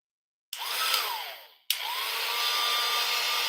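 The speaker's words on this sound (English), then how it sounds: "I'm going to dry this just for a second." A handheld dryer blows over a freshly inked handmade card, switching on with a steady rushing whoosh that briefly cuts out and restarts, loud and close.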